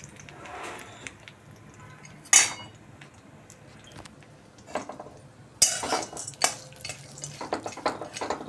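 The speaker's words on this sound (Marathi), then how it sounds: "थोडंसं भाजून घेऊया याला आपण तुपावर." Almonds roast in ghee as a spoon or spatula scrapes and clinks against a metal pan, with a sharp clank partway through and busier stirring clatter toward the end.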